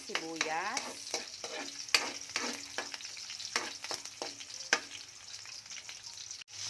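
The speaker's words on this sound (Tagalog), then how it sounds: "ginisa ko muna ang bawang, sibuyas" Garlic and onion sauté in hot oil for a sponge gourd (patola) vegetable dish, a close steady sizzle broken by repeated spatula scrapes and clinks against the pan, with no talking.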